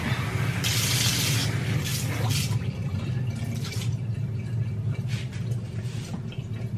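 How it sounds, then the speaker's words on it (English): Warm water runs steadily from a tap into the tank of a Vax carpet cleaner, a continuous close rushing stream with splashy bursts and no talking. "So I'm gonna put a warm water."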